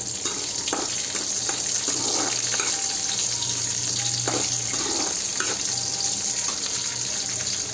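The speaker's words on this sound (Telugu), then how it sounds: "ఆనియన్స్ వేసుకున్న తర్వాత ఇది కూడా మంచిగా ఫ్రై కావాలి" Onions fry with cumin seeds in a hot pan, giving a steady, loud, hissing sizzle that runs unbroken from start to finish, close up and with no voices.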